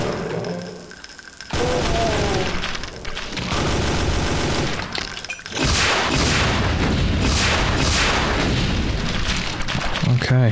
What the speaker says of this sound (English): Are they shooting me from above or something?